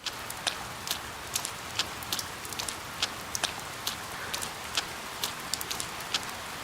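Rain effect from the video game Persona 4 Golden, a constant hiss of rainfall dotted with sharp, irregular drip-like ticks that keep recurring, with no voices.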